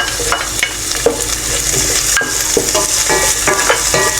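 Four garlic cloves and a medium onion sauté in a tablespoon of oil, heard as a loud, close sizzle with repeated spatula scrapes and stirring knocks against the pan, a base for cabbage and corned beef.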